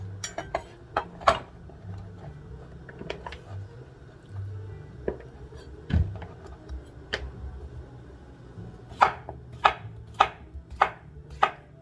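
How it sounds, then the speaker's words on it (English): A knife slices potatoes for an Egyptian potato casserole, with the slices added to a pan. Close, repeated knife strikes land in an irregular rhythm, bunching into a quick run of cuts near the end. "just keep slicing and adding to the pan"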